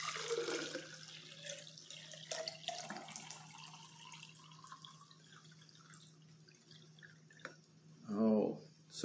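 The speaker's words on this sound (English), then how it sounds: "I'm going to take the water and I'm going to pour it into my graduated cylinder" Water poured from a container into a graduated cylinder during a volume measurement, a steady trickling pour running throughout at moderate level, with a brief louder gurgle near the end.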